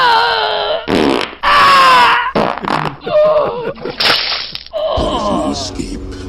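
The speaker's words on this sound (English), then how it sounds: "You're going to have to smell that fart." A loud fart sound effect, a series of drawn-out, sputtering blasts broken by brief gaps, with some vocal noises mixed in.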